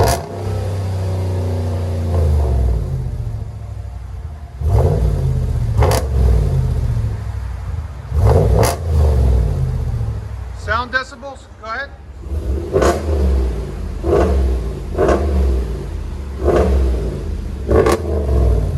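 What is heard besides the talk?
V8 truck revving with Dynomax race bullet exhaust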